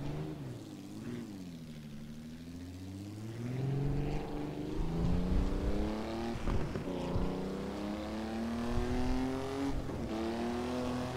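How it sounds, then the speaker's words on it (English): A Maserati 250F race car with a V12 engine and five-speed gearbox in the Assetto Corsa racing game, its engine rising and falling through revs with a howling, buzzy tone and several gear changes, loud and steady. "Great sound from that V12."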